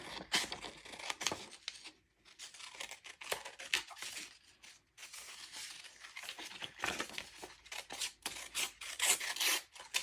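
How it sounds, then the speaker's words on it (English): Scissors cut out gelli prints made on paper, with close, irregular rasping snips and rustles that start, pause briefly and resume, with no talking. "I think I'm going to cut a couple of these out."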